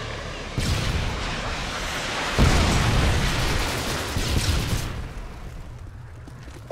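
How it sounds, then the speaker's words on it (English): A Predator missile strike in the multiplayer shooter Call of Duty: Modern Warfare 2, a loud rumbling blast that builds into a heavier boom and then slowly fades into a low, quiet tail. "Predator missile inbound"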